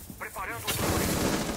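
Gunfire in the Rainbow Six Siege video game, a sharp close shot followed by a dense burst of rapid reports and reverberant noise, loud and filling the clip, with speech at the start.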